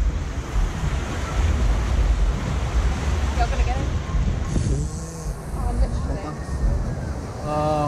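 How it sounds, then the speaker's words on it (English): Rushing water and wind roar continuously on a rapids boat ride at Energylandia, with splashes and surges. A voice cries out briefly near the end. "this is a proper rapids"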